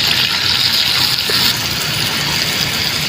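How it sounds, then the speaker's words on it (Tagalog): Steady rushing water pours continuously into a cooking pan of chicken for chicken in oyster sauce, a broad hiss filling the whole stretch without pause. "Lalagay lang po tayo ng konting tubig"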